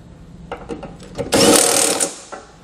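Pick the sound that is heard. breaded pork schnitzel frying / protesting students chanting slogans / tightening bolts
tightening bolts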